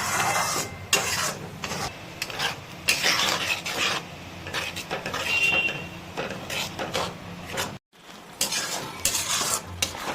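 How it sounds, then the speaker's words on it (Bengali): A spoon scrapes and clatters against a pan while tomato masala for a dhaba-style paneer curry is sautéed on a high flame, with loud, irregular stirring strokes and a short pause near the end. "এইবারে ধৈর্য ধরে এই মশলাটাকে ভালো করে কষে নিতে হবে।"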